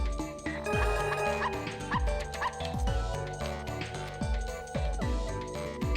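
A dog in the video game Button City yips and barks in a repeating pattern over a busy, continuous game music bed, its short sharp calls recurring steadily throughout.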